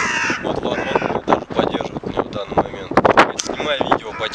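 A crow caws loudly and close by in several harsh calls, mixed with wind and someone talking.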